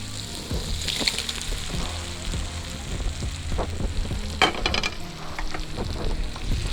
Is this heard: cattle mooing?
no